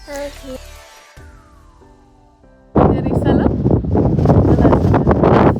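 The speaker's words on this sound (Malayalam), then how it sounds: "ഭയങ്കര കാറ്റ്." Strong wind blows outdoors on a long-weekend day trip in Canada; after some quieter tonal sounds, a loud, steady gusting roar buffets the microphone and continues to the end.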